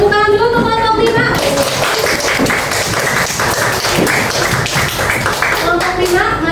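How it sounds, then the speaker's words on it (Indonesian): Children in a classroom clap for group 5, a dense burst of close applause lasting several seconds, led in after a short spoken prompt. "Tepuk tangan dulu untuk kelompok 5."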